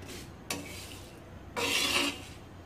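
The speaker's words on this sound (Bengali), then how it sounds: "মশলাগুলো নেড়েচেড়ে দিতে হবে।" Dry whole garam masala spices are stirred and scraped in a pan, two short scraping strokes, the second longer, fairly close but quiet, with no talking.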